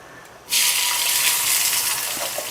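Onion goes into hot oil for a green peas sundal fry, and a loud sizzling hiss erupts abruptly after half a second, then holds steady and close until the end.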